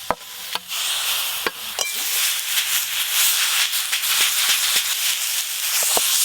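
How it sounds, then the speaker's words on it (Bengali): Stirring a thick coconut and jaggery filling for pitha in a pan: a steady sizzling hiss with irregular wooden scraping and tapping knocks, close and moderately loud, no talk. "এইভাবে নেড়ে নেড়ে ভালো করে শক্ত করে পুরটা তৈরি করব"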